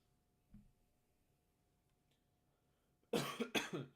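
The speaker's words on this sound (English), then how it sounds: "This cough is not being nice to me." After a quiet stretch with a soft thump, two sharp coughs burst out close by near the end, one right after the other.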